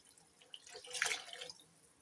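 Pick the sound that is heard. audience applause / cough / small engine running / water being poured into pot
water being poured into pot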